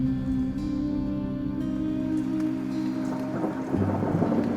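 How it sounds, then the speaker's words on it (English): Steady rain with low rolling thunder fills the scene as a fantasy audiobook effect, heavy and continuous, swelling louder near the end with no voices. "The rain hadn't stopped. It merely changed its rhythm, tapping against the windows of the Bannered Mare."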